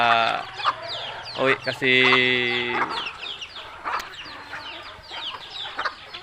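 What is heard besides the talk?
chickens clucking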